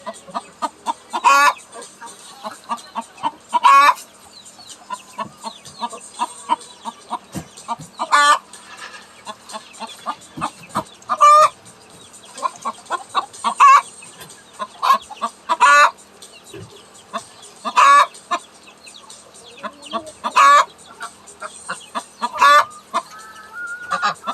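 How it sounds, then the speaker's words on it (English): A hen clucks persistently close by in a chicken coop on a farm, repeated rhythmic clucks and drawn-out calls over about twenty-four seconds, loud and continuous with faint background fowl noise. "You guys got a hen right behind you deciding that she's just going to be talking and talking and talking."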